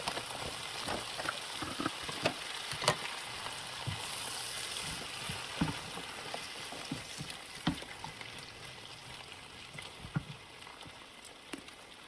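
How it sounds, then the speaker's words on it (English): Okra and a red pepper and onion blend fry in a pan, giving a steady hiss and crackle with scattered sharper pops throughout, with no voices. "let me add my okra and my red onion blend"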